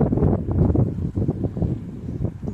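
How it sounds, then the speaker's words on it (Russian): Cold wind gusts outdoors on a walk through a small town near Komsomolsk-on-Amur in early March, buffeting the microphone with loud, rough, low rumbling bursts that rise and fall throughout. "Ветер холодненький"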